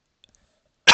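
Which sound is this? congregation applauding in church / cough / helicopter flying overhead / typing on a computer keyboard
cough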